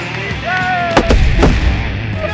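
A toy mine blast destroying a radio-controlled helicopter on an RC minefield, heard as loud booming thuds and crackle, with excited voices and talk over it.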